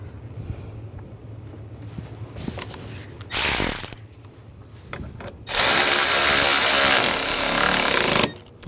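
A power tool drives bolts into the A/C condenser cooling fan assembly on a 2008-2012 Jeep Liberty 3.7L V6, a short loud whirring burst followed by a longer, sustained high-pitched whine, close up.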